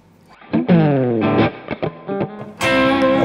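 A Tokai Techwood Telecaster electric guitar, played through distortion, rings out in a few crunchy, sustained chords and short bends with choppy gaps, loud and close, with no one talking over it.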